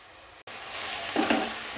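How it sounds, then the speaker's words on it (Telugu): Fenugreek leaves frying in a pan for a fenugreek-tomato curry give a steady, close sizzle that steps up slightly about halfway through, with no talk. "ఇలా ఫ్రై అయితే సరిపోద్దండి"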